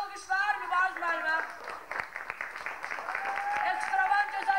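A crowd at a 2005 KVN comedy show in Mardakan applauds in a loose, moderate burst of clapping, partly masked by a host speaking over it.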